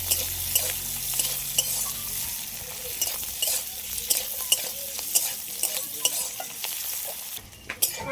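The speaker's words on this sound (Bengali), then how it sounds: "আদা রসুন সবগুলো একটু ভালো করে ভেজে নিই" Ginger and garlic frying in oil while being stirred, a constant bright crackling sizzle with frequent scraping strokes of a utensil against the pan, close and continuous with no voices.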